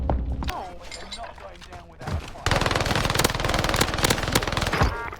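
Video game gunfire, a burst of rapid automatic shots that turns into sustained loud firing in the second half, with a voice speaking early on.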